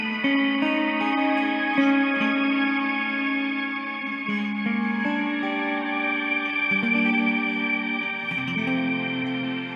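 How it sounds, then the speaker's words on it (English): Electric guitar played through a reverb effects pedal: simple sustained melodic lines bloom into a lush, continuous wash of reverb and echo, heard alone without talk. "Definitely an amazing reverb device."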